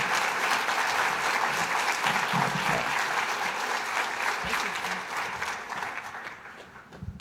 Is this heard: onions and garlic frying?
no